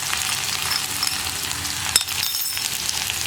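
Crushed onion and garlic hit hot oil with popped mustard seeds, a steady dense close sizzle with faint clinks of a spoon against the pan.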